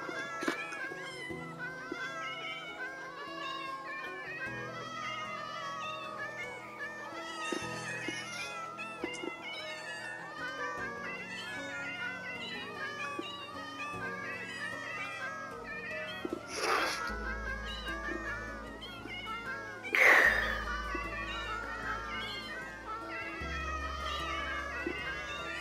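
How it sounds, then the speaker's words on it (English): Many cats meowing in Minecraft, overlapping mews and caterwauls layered thickly over game music throughout, with a louder cry standing out near the end. "And then you just want to keep spawning the cats in."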